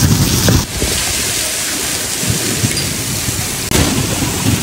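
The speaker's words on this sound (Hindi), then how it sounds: "फिर ओले शुरू हो गए बारिश" Heavy rain with hail pours in a dense, loud, continuous roar, with a sharp crack partway through, and thunder rumbling beneath on an Islamabad road.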